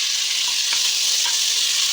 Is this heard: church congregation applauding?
no